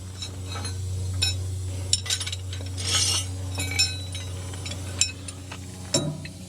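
Small metal nuts clink and tick against a threaded steel stud as they are spun down by hand, a series of light, scattered metallic taps over a steady low hum, with no talking.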